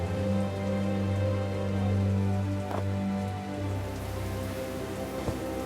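Rain falls in the adventure game The Dark Eye: Chains of Satinav as a steady, even patter alone, over low droning background tones and a couple of faint knocks.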